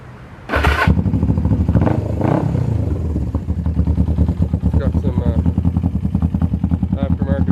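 A 1984 GSX 400E motorcycle engine cranks and fires up with a sharp burst, then settles into a close, loud, throbbing idle with a slightly heavy tone.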